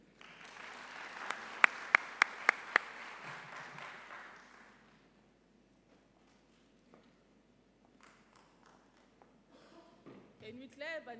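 A conference audience gives a round of applause for an executive director coming up for opening remarks, a few sharp louder claps standing out over steady clapping that dies away after about four seconds, followed by quiet rustling and a voice.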